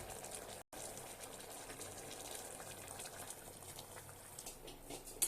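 Hot water is poured into a pot of peas and potato curry, making a faint, steady gushing splash that runs continuously, with a brief dropout near the start.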